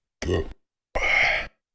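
Two short guttural burps, the second longer and louder, close by with a brief silence between them.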